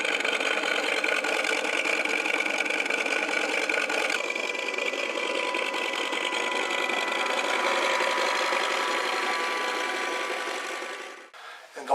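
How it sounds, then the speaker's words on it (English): Emulated engine sound from a hull transducer in an RC model of the patrol boat from Apocalypse Now, a steady droning mechanical hum that holds for most of the stretch, shifts slightly in tone partway through and drops off at the end. "what you get are emulated engine sounds that change with your throttle settings"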